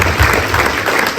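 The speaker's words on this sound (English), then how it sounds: "So big round of applause for that." An audience at a mental health awareness walk event claps loudly and close by, a dense burst of applause filling the brief moment.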